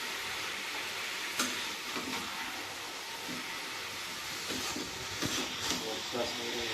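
Tomato and masala fry in a pan with a steady sizzling hiss and occasional stirring clatter, a voice talking over it.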